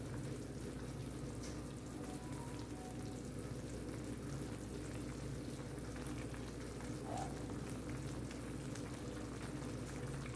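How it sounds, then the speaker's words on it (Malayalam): Prawn kofta curry simmering in a pan of coconut-based gravy, a steady low bubbling and faint sizzle that runs on evenly without talk. "നന്നായി തിളപ്പിക്കുക."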